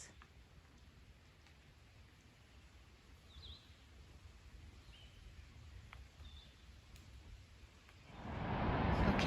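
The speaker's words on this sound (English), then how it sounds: "That is the sound of rushing waterfalls." Rushing waterfalls heard from a forest trail on a hill near the New River Gorge: a faint, steady broadband wash with occasional distant bird chirps, swelling suddenly louder near the end.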